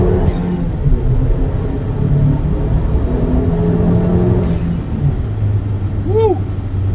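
A tuned 2009 Acura RDX SH-AWD accelerating, a loud continuous engine rumble and whir that holds steady for several seconds, then drops away to a lower hum near the end.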